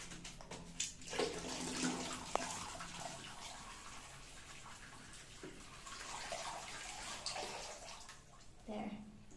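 A bathtub fills from the tap in a home bathroom, a steady, fairly quiet rushing of water that runs without a break for several seconds, with a few small knocks and splashes on top.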